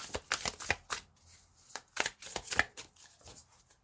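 Tarot cards shuffled by hand in two bursts, crisp papery riffles and slaps with short pauses between, close and fairly loud with no talking.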